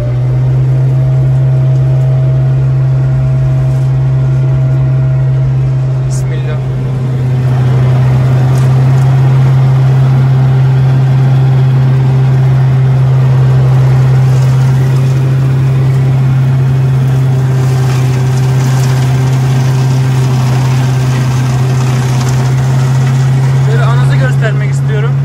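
Farm tractor engine running steadily with the throttle opened up, a loud continuous low drone that rises slightly in pitch partway through and holds, with outdoor background noise.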